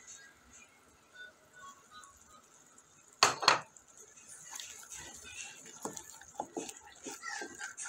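Egg and goat brain (maghaz) being fried and stirred in a pan: a sharp metal clank of a utensil against the pan, then quiet scattered taps and scrapes over a soft background.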